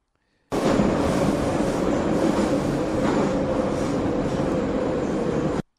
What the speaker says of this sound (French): le métro.